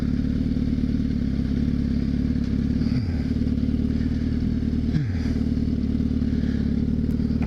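Sport motorcycle lapping a race track during a trackday at Arizona Motorsports Park, its engine droning loud and steady close to the rider, with two quick downshift dips in pitch.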